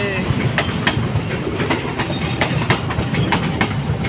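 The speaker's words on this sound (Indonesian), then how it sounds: "Kayaknya kereta Walahar" A Walahar passenger train rolls past close by near Cikampek with a steady rumble and a regular clickety-clack of wheels over rail joints across the whole stretch, while faint voices sound beneath it.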